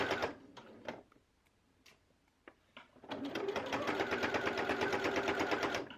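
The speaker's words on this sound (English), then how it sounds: "continue sewing a straight line all the way to the end" A sewing machine stitches a straight hem seam: a few short mechanical clicks and taps, then a brisk, continuous run of rapid stitching that carries on evenly to the end.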